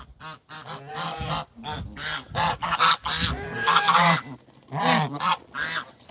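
A pet goose honks loudly and repeatedly at close range, a string of harsh, nasal calls in uneven bursts with short gaps between them.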